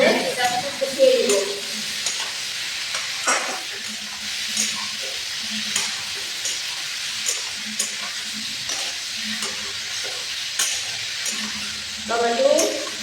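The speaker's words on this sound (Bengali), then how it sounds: "টমেটো কুচি ভালো করে কষিয়ে দিব।" Chopped tomato sizzles in a pan with onion, potato, garlic and ginger for a puti fish and potato curry, a soft frying hiss broken by repeated scraping stirs, while someone talks over it at times.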